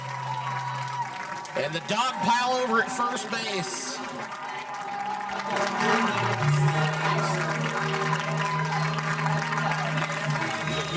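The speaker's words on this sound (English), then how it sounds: "You hear the crowd here" A home crowd at a Class 3A state championship high school baseball game between Blair Oaks and Duchesne cheers loudly and steadily, with a whistle-like tone, while a commentator talks over it.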